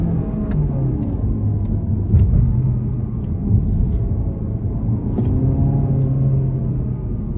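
Steady low engine rumble of an Opel Astra with a 1.6 four-cylinder engine driving, holding a constant drone with slight swells, as if heard from inside the cabin.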